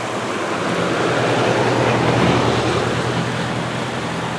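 Tidal sea water rushes under a bridge on the Shimanami Kaido in Japan, a steady, broad surging wash that swells slightly in the middle and stays continuous.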